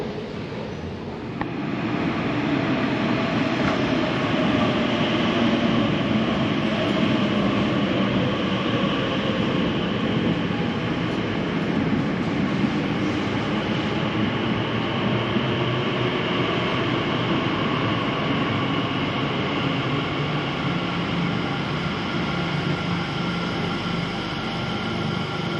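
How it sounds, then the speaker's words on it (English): A train pulls out of London Paddington station with a loud, steady rumble and broad roar that holds nearly unchanged for the whole stretch, without voices. "So this train is now leaving for Abbey"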